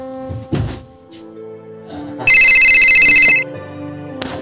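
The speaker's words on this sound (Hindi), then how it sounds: "कर्नल का फोन।" A mobile phone ringtone sounds with a bright, loud electronic trill lasting about a second, amid quiet room noises and a soft thump.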